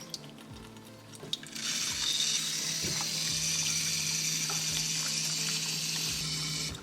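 Running water rinses freshly made homemade paneer held in a strainer, a steady broad splashing that starts after a quieter opening second and continues loudly and evenly, close by with no talking.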